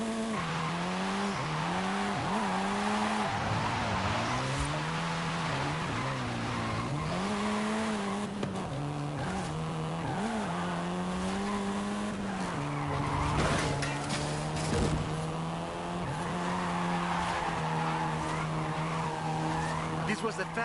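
A Volkswagen Golf R, seventh generation, drives in Forza Horizon 5 with a steady loud engine drone that rises and falls through gear changes. Tyres squeal and skid throughout, and a voice talks over it.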